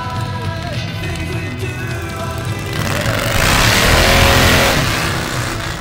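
A Harley-Davidson Twin Cam Softail street engine with 574 cams and a loud exhaust rumbles at idle, then swells into a raspy rev that peaks and falls away, close and loud.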